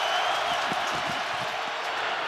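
Constant broad roar of a packed stadium crowd at an NFL game between the Kansas City Chiefs and Baltimore Ravens, with faint low murmurs of nearby voices mixed into the sustained cheering.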